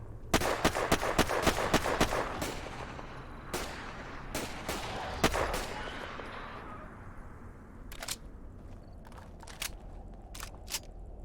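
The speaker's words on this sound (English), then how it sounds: "whatever gun she's using is part of the problem with the audio." Modded gun in Fallout 4 firing with a wrong, glitchy sound: a rapid burst of sharp cracks, then scattered single shots that fade into sparse clicks, fairly loud and alone.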